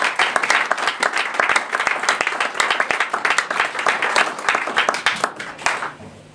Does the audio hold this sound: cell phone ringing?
no